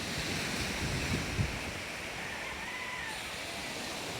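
Strong wind roars steadily over open sea, a dense wash of rushing air and surf noise with buffeting on the microphone and no voices.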